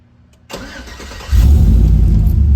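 A 2003–2007 Chevrolet Silverado with its remote start unit unhooked is test started: a short quiet pause, then the starter cranks and the engine catches into a loud, deep, steady idle close by.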